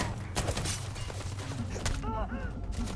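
Rapid gunfire bursts in the sci-fi video game Starfield, sharp cracks repeating in quick volleys over dense combat noise, with faint chirping tones late in the clip.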